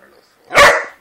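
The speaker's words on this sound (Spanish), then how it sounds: "Ladra bajito, Taur." A single short, sharp dog bark, close and loud, after a moment of near silence.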